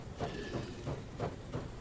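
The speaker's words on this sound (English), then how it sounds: "Oh, there's another train." A train rolls past in the game Dysmantle, a steady rumbling clatter with rhythmic clacks about every third of a second, moderately loud with no talking.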